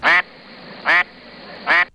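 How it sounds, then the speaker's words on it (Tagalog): Three loud, nasal duck quacks ring out at a steady, evenly spaced rhythm, close by, with quiet background between them. "mga ibon na putak ng putak"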